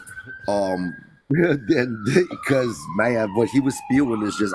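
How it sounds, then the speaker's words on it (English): An emergency vehicle siren wails outside during a live stream, a steady gliding tone that holds and slowly drops in pitch, running under a man's close, loud speech. "I apologize about the sirens."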